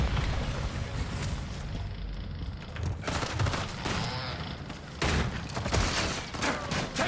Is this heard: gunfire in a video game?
yes